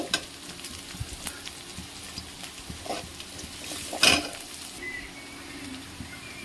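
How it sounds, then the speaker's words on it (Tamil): Onions sautéing in hot oil in a pan, with a continuous sizzle and scattered stirring scrapes, plus one louder clatter partway through and no talking. "வெங்காயம் நல்லா வதங்கிடுச்சு"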